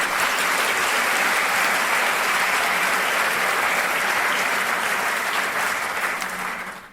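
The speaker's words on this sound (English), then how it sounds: "I gotta give you a round of applause for that" A steady round of applause, dense and even clapping from a group held for several seconds before fading out at the end.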